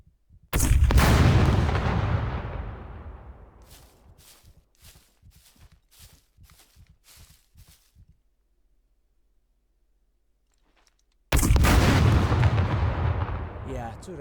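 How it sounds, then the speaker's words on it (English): Two heavy RPG rocket blasts strike a turret in the survival game SCUM, each a loud booming explosion with a long decaying rumble, the first followed by a run of rhythmic footsteps, then a stretch of near silence before the second blast. "Yeah, 2 rockets and it's gone."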